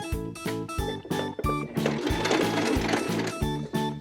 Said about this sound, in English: I'll sew right along the finished edge of the towel